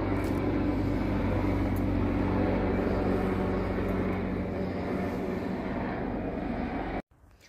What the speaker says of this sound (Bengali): আকাশ দিয়ে এখন হেলিকপ্টার যাচ্ছে